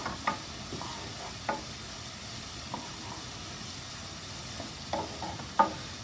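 Garlic sizzles in a pan with sautéing chicken, a steady close hiss of frying with a few soft scrapes and taps of stirring scattered through it.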